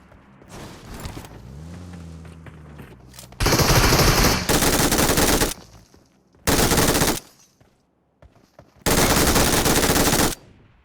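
Groza assault rifle fire in a mobile shooter game comes in three loud sustained automatic bursts separated by quieter gaps with faint movement sounds, no talking during the shots.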